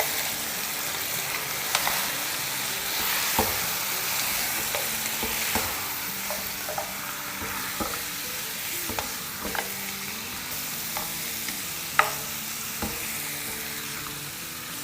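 Aloo gosht, potatoes and mutton with salt and garam masala, is stirred in a frying pan, the spoon scraping in irregular knocks over a constant close sizzle.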